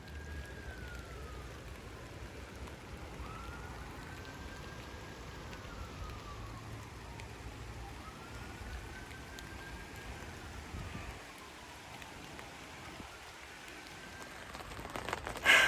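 Rain shower drumming on the cover of a polytunnel in a garden plot, a steady even patter heard from inside with a faint siren wailing in the distance, no voices.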